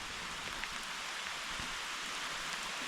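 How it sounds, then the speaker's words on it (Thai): Steady rain hiss fills the scene, an even wash of falling water with faint scattered drops and no voices. "ฝนตกในนี้นะ"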